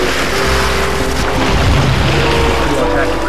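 A sailboat moves through open water at about 7.4 knots, with a steady wash of water and rushing wind noise close by; a person may be talking in the background.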